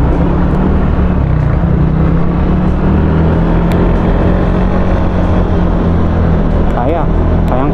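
Engine of a Samurai 155i scooter, 70 kilograms, labouring uphill at low RPM: a loud, steady droning hum with wind rush that runs the whole time, with a rider talking over it.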